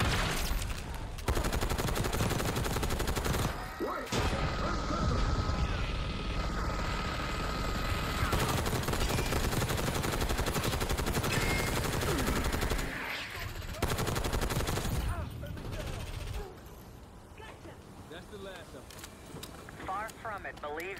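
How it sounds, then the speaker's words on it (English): Machine gun fire in the Black Ops 6 campaign, long loud sustained bursts with brief pauses, mixed with helicopter rotor and battle noise while voices talk over it. "Machine gun!"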